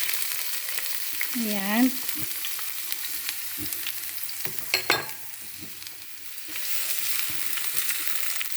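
Red capsicum fries in hot oil in a covered pan, giving a steady soft sizzle with occasional stirring knocks, and a voice says a short word over it.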